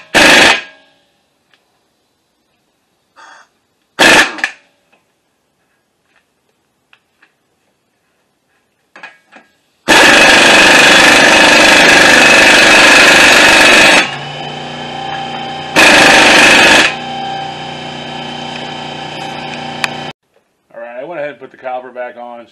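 An air impact wrench runs down the CV axle nut on a 2008 Toyota Solara: a few short sharp bursts, then a loud sustained rattling buzz lasting about ten seconds, stopping before a voice speaks.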